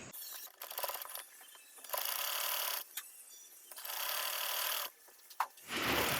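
A sewing machine runs in several bursts of rapid stitching separated by short pauses, hemming a one-inch fold on a baby frock, close and clear without talking.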